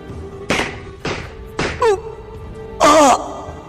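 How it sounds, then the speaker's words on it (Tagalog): Three sharp, loud .45-caliber gunshots in quick succession, evenly spaced, followed by a louder burst with a wailing cry; no talking. "bigla na lang umalingaw-ngaw ang tatlong putok"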